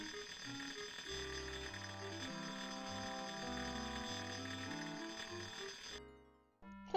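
A loud electronic alarm rings continuously in the 1994 DOS adventure game Death Gate, a repeating melodic beeping pattern with steady rhythm that runs for about six seconds before cutting off.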